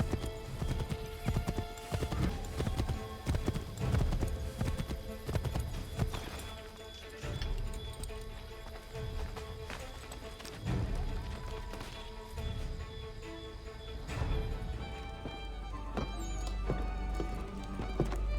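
Galloping horse hoofbeats from a ride toward Lexington in Assassin's Creed 3, a steady rapid clip-clop over ambient game music, with an occasional whinny and a low rumble near the end.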